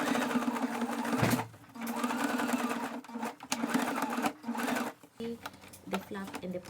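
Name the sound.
sewing machine top-stitching pocket flap on denim cargo pants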